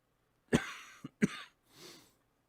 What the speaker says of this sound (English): This cough is just awful.